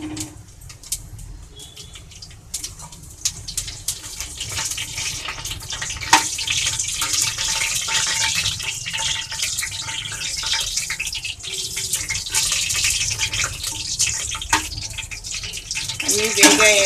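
Whole spices, including cloves, fennel, star anise, cardamom, mace and bay leaves, sizzle in hot oil for mutton biryani, a steady crackling hiss that grows louder and denser as it goes, close by and continuous.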